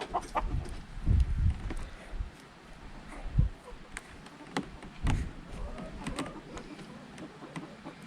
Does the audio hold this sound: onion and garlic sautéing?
no